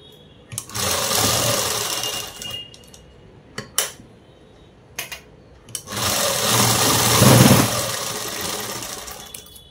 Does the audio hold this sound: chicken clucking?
no